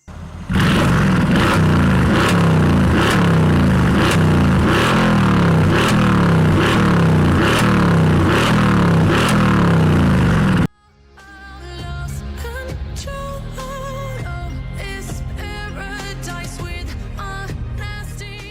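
The Brabus-tuned exhaust of a Mercedes-AMG GLE 63 coupe SUV roars loudly, revving in rapid repeated bursts, then cuts off and gives way to music.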